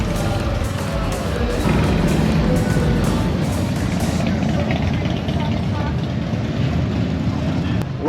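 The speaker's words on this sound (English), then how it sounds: "Sturgis Main Street, loaded with bikes." Motorcycles crowd Sturgis Main Street during the rally, filling the air with a steady rumble of engines and occasional revs, close and loud, with voices of people on the street mixed in.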